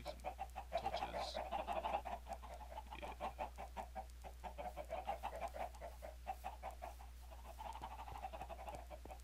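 Chickens clucking in the video game Minecraft, a dense stream of short repeated clucks and calls at moderate level over a steady low hum, with no talk.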